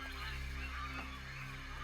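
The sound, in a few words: birds calling, disturbed by tree cutting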